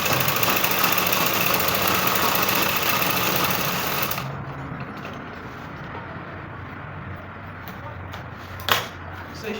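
A sewing machine stitches a dart on a bustier straight gown, its steady mechanical whir running loud and continuous for about four seconds before dropping to a quieter, duller hum with a brief knock near the end.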